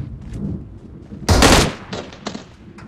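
A burst of automatic gunfire from an M416 rifle in PUBG Mobile sounds as one sharp loud volley, followed by quieter scattered shots.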